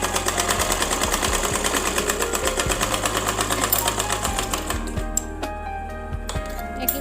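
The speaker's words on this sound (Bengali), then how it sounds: "কাঁধের অংশটিকে জোড়া লাগিয়ে নিব। মনে রাখতে হবে এখানে আমি দুইটা ডাবল সেলাই করে নিব যাতে সেলাইটা মজবুত হয়।" A sewing machine runs continuously, stitching the shoulder seam of a child's umbrella frock with a fast steady mechanical rattle and hum, loud and close, slowing and stopping toward the end.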